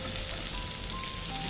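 Small onions fry in a hot pan, giving a steady, close sizzling hiss that stays even throughout with no talking.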